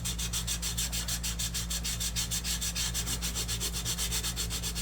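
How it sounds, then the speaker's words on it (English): Hand sanding cured StoneCoat resin on a poured glass vase, a steady, close scratchy rubbing in quick regular back-and-forth strokes that runs without a break over a low background hum. "if you're going to be sanding a lot of resin"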